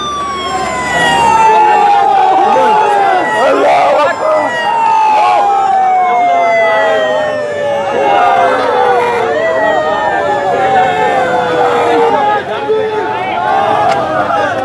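A wailing ambulance siren sweeps up and down continuously, loud and close, over a noisy crowd with voices shouting, outside a hospital in Pakistan.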